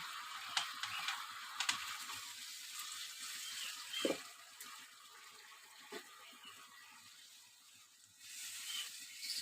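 Water poured into a pan holding fried chitol fish muitha, a faint watery splashing and sizzle with a few soft clinks, fairly quiet and broken into short bursts.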